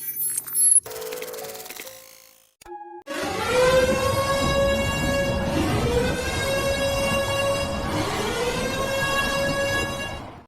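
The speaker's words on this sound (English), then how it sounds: "At the beginning, you hear the storm siren wailing." A storm siren wails over a wooded area, its rising and falling tone sweeping in long, loud cycles that fill the air after a brief burst of mechanical noise at the start.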